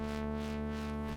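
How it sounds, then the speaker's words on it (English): A sustained saw wave synth tone holds a dense, buzzy harmonic stack while an LFO sweeps its noise, FM and filter cutoff, giving a slow wavering brightness; it plays alone and steady before fading at the end. "all this movement is basically an LFO modulating the parameters"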